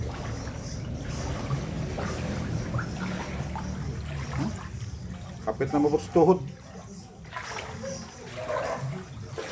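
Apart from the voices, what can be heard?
floodwater flowing in street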